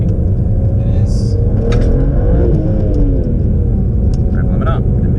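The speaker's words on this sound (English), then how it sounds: "Rev limit up." A tuned BMW E92 335i with an N54 engine and hybrid turbo revs hard toward the limiter, a loud close engine roar with rising pitch sweeps, and a voice exclaims over it.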